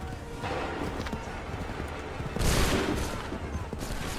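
Musket volleys crack out in the game Assassin's Creed III, a sustained burst of gunfire with a louder surge of shots midway, heard under shouted commands and battle noise.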